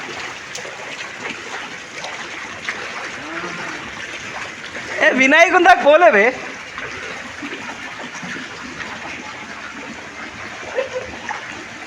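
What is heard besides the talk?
floodwater flowing through temple and houses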